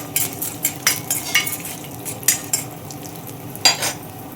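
Chana dal and urad dal fry in a pan and get stirred, giving repeated scraping clinks of a metal spoon against the pan over a soft, steady sizzle, close and moderately loud, with no talking.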